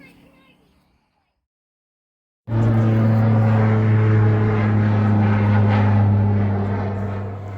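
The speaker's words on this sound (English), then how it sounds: "This plane would frequently fly by, dropping lots of chaps in parachutes." A propeller plane carrying parachutists flies over, its steady loud droning hum rising abruptly after quiet and holding near and strong throughout.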